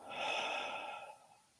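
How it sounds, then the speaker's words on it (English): A single long, gentle exhale during a guided breathing meditation, soft and airy, swelling quickly and then fading slowly over under two seconds, close and alone with no talk. "Before releasing, a long and gentle exhale."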